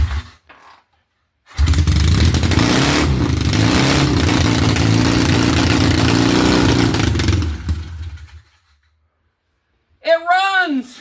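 Triumph T140 motorcycle engine, freshly revived from a scrapyard, starts and runs loudly with throttle for about six seconds of rough, clattering revving, then dies; a voice speaks briefly afterward.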